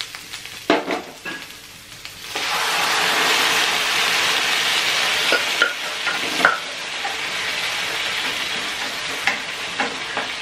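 Potatoes drop into a hot pan with ginger paste, onion and curry leaves and are stirred, setting off a loud, steady close sizzle broken by a few clanks of the spoon against the pan.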